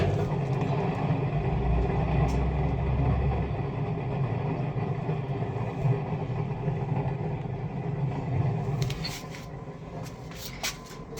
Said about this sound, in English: There's some noise coming out of it, so it means its bearings.